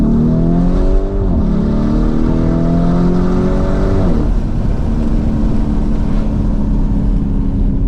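A Lamborghini Urus engine roars and revs loudly and steadily, its pitch climbing and then dropping sharply on a downshift, with the exhaust popping.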